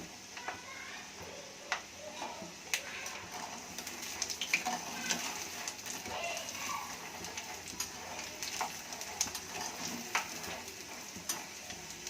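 Peanuts for an anapakaya (bottle gourd) mixture snack fry in hot oil, giving a faint, steady crackle scattered with small pops and ticks, with no talking.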